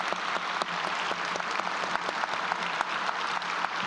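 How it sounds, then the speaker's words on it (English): Audience at a medical school white coat ceremony applauds, a steady wash of clapping with a few loud individual claps popping out at regular moments, sustained from start to finish. "round of applause for him"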